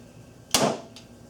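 A single sharp snap of a Stryker Katana 360 crossbow release with a quick whooshing burst, followed by a faint second thud of the arrow hitting a target moments later, then quiet.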